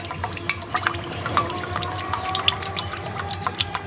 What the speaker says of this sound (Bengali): আরও জল আছে এক বাটি পুরো জল হবে